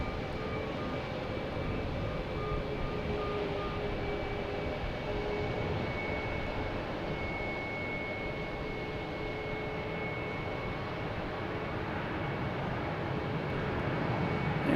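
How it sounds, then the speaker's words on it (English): A Spirit Airlines Airbus A321neo arriving from Nashville at Boston Logan hums in a low, steady engine drone with faint whining tones, moderately distant and unbroken throughout. "We have Spirit Airlines coming in from Nashville, an A321neo"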